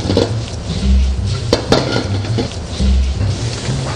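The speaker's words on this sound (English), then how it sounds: "So I'm going to drop the pork in first." Pieces of pork dropped into a hot wok, giving a spread of soft clatters and a sizzling hiss with a couple of sharp metallic ticks, close up and without voices.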